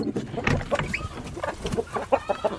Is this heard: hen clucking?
yes